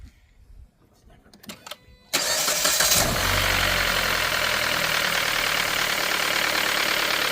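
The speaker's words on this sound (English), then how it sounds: "going to start the vehicle up" A 2014 Ford Fiesta engine cranks with a few sharp clicks, then catches and roars into a loud, steady idle that continues to the end.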